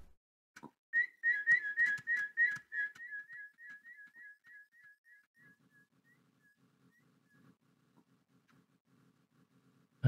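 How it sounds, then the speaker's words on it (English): A series of short, bright whistled notes that grow fainter and slower as they trail off, followed by quiet low chatter. "I like the one that likes to whistle."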